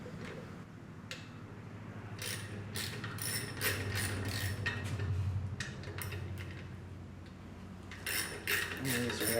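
A ratchet wrench clicks in quick, repeated bursts as it loosens the sump nuts on an engine case, with close metallic ratcheting over a low background hum.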